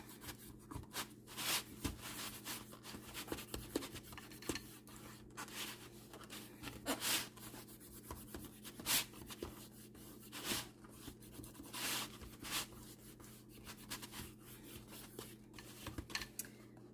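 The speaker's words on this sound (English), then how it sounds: "rub the paper so that it makes contact with the glue" Paper rubbed onto glue in a Dollar Tree spring craft, a steady series of soft scratchy strokes close up, repeated over and over, quiet and with no talk.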